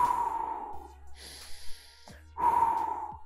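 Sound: breathing

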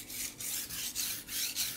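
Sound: knife being sharpened, grinding one side

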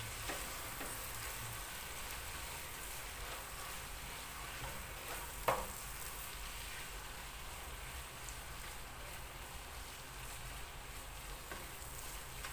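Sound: stirring carrots and vegetables frying in a pan

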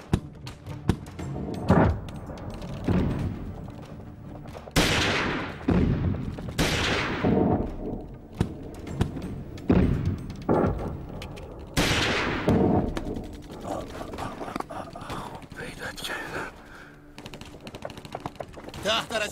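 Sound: gunfire in a film battle scene

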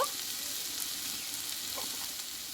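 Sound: red amaranth greens frying in oil with poppy seeds

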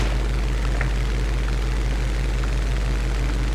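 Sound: propeller fighter plane engines in a video game air battle

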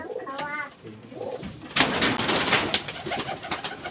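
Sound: racing pigeons cooing in loft

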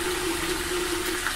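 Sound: water running from a tap

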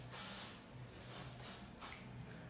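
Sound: Club de Nuit Intense aerosol perfume body spray

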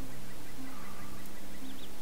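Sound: chickens in a chicken-hunting quest, from video game LOTRO

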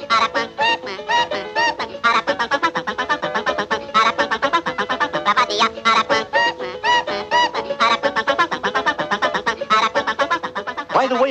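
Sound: cartoon bird's peculiar song

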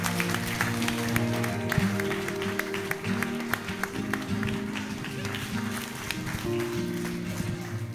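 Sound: wedding guests applauding

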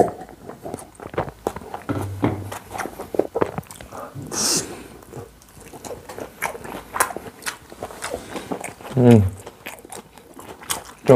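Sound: eating pizza, biting and chewing (ASMR mukbang)

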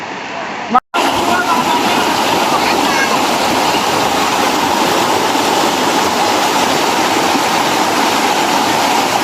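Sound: waterfall at Ilog ng Istrabiyal, Bulacan

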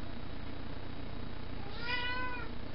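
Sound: cat meowing

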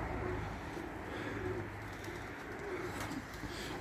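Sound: pigeon cooing

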